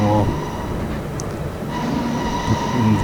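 A subway train in a New York subway video game simulator rumbles along with squealing wheels and a rising metallic whine as the brakes engage, steady and close.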